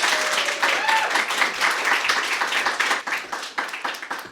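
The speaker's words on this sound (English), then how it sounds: "Thunderous applause for Curtis L." Audience at a poetry reading gives a poet dense, lively applause that holds steady, then thins toward the end, with faint voices mixed in.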